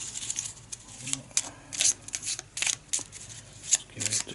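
A quick shuffle of a spell deck during an Arkham Horror board game session, heard as short riffling bursts at the table, fairly faint, with people talking around it.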